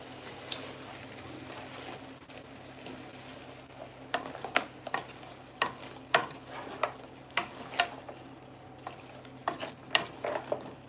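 Shrimp stir-fried in a pan with soy sauce and chili, a steady sizzle under sharp, rhythmic clinks and scrapes of a utensil against the pan, growing busier toward the end.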